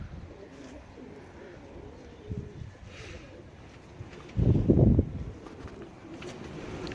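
A smoky grey breeding pigeon coos in a low, soft burst from a loft, rising briefly to a louder throaty stretch midway over faint background rustle.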